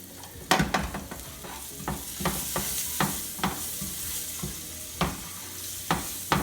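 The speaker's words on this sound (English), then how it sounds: "So I'm gonna just mix this around." A curry bammy mixture is stirred in a frying pan, with a spoon scraping in rhythmic strokes roughly every half second over a steady background sizzle, close and moderately loud, with no speech.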